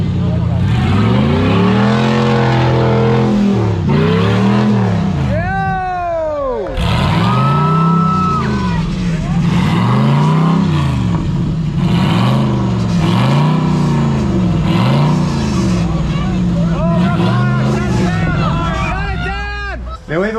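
A Toyota Land Cruiser 60 off-road 4x4 revs repeatedly in rising and falling surges at a muddy off-road event, loud and close, with voices talking over the engine.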